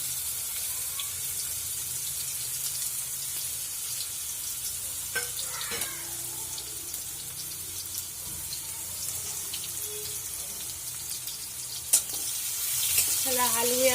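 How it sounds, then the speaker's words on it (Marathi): Ridge gourd pieces sizzle steadily in hot oil, a continuous frying hiss with occasional stirring scrapes and small clinks, close and fairly quiet with no talking. "पहिलं मी तेलात परतून घेणार आहे दोडके"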